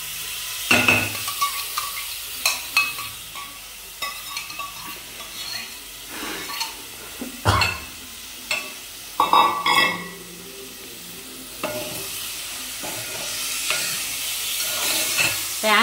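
Tomatoes fry and get stirred in a pan already coated with turmeric and ginger-garlic paste for a fish curry. A steady sizzle runs underneath, and sharp scraping and clanking strokes cut through it at irregular intervals, fairly close.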